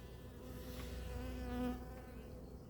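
Honeybee colony buzzing in an open hive during a swarm inspection, a close, steady droning hum that swells briefly in the middle, with no talk.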